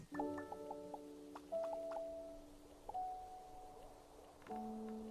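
Pudding slime creatures in the Starbound video game give off soft squishy drips and tonal pings, several brief bubbling blips scattered over a few seconds, faint and alone without speech.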